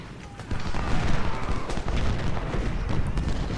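Skirmishers opening fire in the video game Ultimate General: Civil War, a dense crackle of musket volleys and booms rolling on continuously as battlefield noise.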